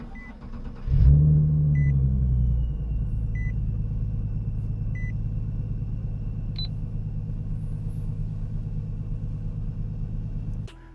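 A turbocharged Nissan 370Z starts and settles into a steady, low idle rumble, with a faint high squeal like a squeaky belt and a few soft electronic beeps above the engine.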